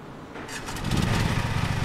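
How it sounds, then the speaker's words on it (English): A lawn mower engine in Lawn Mowing Simulator cranks to life after a brief quiet moment, then settles into a steady, throbbing small-engine putter that holds close and fairly loud. "Hold Z to start vehicle's engine."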